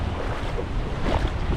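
Strong ocean waves roll and wash continuously at a beach in Anda, a dense, roaring surf under gusty wind buffeting the microphone, with no voices.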